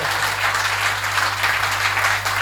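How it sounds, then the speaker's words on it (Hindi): Loud, sustained audience applause at a Hindi comedy poetry recital, a thick continuous wash of many hands clapping close up, unbroken and steady, with an electrical hum beneath. "डॉक्टर साहब इतने मन से ताली बजा रहे हैं"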